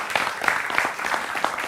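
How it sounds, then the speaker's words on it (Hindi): A studio audience on a television news debate show claps to welcome guests, a dense, steady burst of applause filling the room throughout with no talk on top. "तो जोरदार तालियों के साथ अभिनंदन करिए मेहमानों का।"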